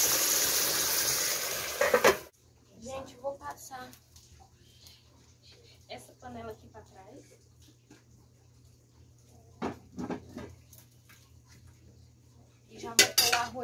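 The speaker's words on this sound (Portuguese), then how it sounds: "Vai fritando o arroz." Rice frying and being stirred in a crowded pan during a home lunch preparation: intermittent utensil scrapes and clinks with a soft sizzle underneath, a louder burst at the start, and someone talking over it.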